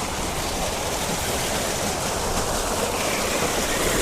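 Steady broadband rush of flowing stream water close by in a rural outdoor setting, constant and unbroken throughout with no voices.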